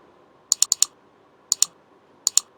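Keystrokes on a computer keyboard while a message is typed, heard as quiet clusters of quick clicks with short pauses between bursts and no voices.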